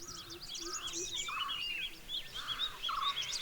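Birds in Vagamon, Kerala, chirp and whistle in short, busy bursts over a steady outdoor hiss. Several calls overlap at moderate distance and stay fairly faint throughout.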